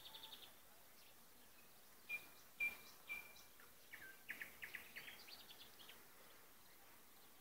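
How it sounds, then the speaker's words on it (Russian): A nightingale sings faintly near an apiary in May: sparse, thin chirps and short whistled phrases scattered over a quiet outdoor background, growing busier midway, with soft insect buzz faintly beneath. "Соловей поет."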